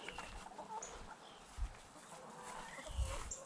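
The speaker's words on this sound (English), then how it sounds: "First chicken heading in." Chickens entering a freshly bedded coop, faint scattered clucks and soft calls at close range, with light shuffling and a couple of low thumps beneath them, and no talking.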